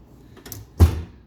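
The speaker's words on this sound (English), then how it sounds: "that's my junk drawer" A junk drawer in a garage workshop is shut with a soft sliding rub followed by a single dull thump, close by and brief, with no voices.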